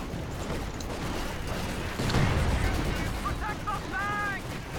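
A mortar team firing in Company of Heroes 2: rumbling battlefield booms with a heavier thud in the middle, followed by whistling tonal sweeps near the end, set against a steady din of combat noise.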